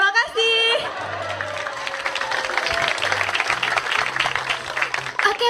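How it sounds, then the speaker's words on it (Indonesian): Loud applause and crowd noise from the audience at the JKT48 Theater fill the room continuously, with a few voices talking over the clapping. "ada tepuk tangannya kenceng sekali"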